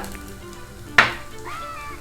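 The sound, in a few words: thin sliced ginger sizzling in hot oil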